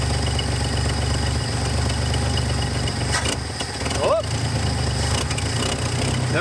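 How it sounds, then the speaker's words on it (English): An old, high-mileage farm truck engine with a split exhaust manifold idles nearby in a steady, rough, ticking drone. A brief voice sounds partway through. "Got an exhaust leak somewhere."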